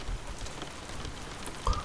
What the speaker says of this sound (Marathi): पाऊस अजूनही जोरात पडत होता.